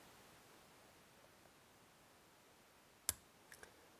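Pins click faintly inside a TESA TE6 lock as it is picked pin by pin: one crisp click stands out in near silence, followed by two softer ticks moments later.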